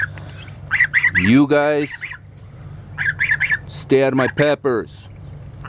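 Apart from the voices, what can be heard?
birds squawking in pepper garden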